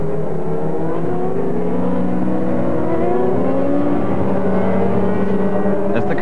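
Formula 1 cars of the 1994 British Grand Prix at Silverstone roll around on the formation lap, several engines droning and rising together in loud overlapping pitch sweeps, with a harsh steady rasp throughout.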